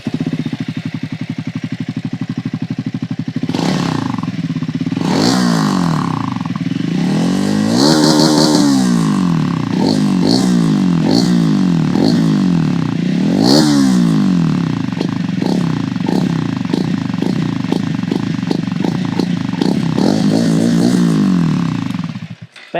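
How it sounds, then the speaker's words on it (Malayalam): Triumph Scrambler 400X single-cylinder motorcycle engine and exhaust note, loud and close, with repeated rising revs and throttle blips over a steady engine rumble, then cutting off at the end; no talking. "എഞ്ചിൻ്റെ നോയ്സ് നമുക്ക് കയറി വരും, പക്ഷേ കൂട്ടത്തിൽ തന്നെ ആക്സിലറേറ്റിംഗ് ടൈമിൽ ആ ഒരു എക്സോസ്റ്റ് നോട്ടും ഇടയ്ക്ക് നമുക്ക് ആസ്വദിക്കാൻ സാധിക്കുന്നതാണ്"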